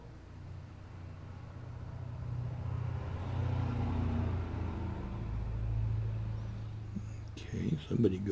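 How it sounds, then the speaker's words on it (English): A noisy car passes outside with a low rumbling engine that swells to a peak mid-way and then fades, heard from indoors under occasional quiet speech. "somebody going by in a noisy car"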